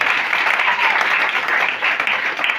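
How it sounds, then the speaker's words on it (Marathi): Sustained applause from an audience in a seminar hall, steady and fairly loud for its whole length, with no pauses. "सर्वांसाठी जोरदार टाळ्या वाजवा"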